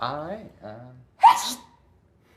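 A single sharp sneeze bursts out right after a few spoken words, close to the microphone, then fades into quiet.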